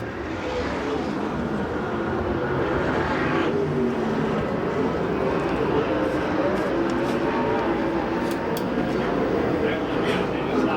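USAC/CRA sprint cars roar around the Perris track on the final lap of a heat race, a loud, steady engine drone that holds throughout with no letup.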